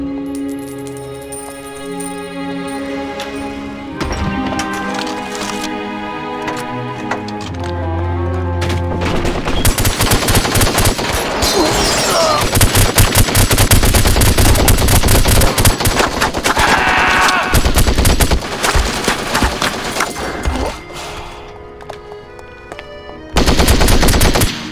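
Sustained machine gun fire from The Godfather video game, a dense hail of rapid automatic bursts and overlapping shots over a musical score, loud and continuous for most of the stretch.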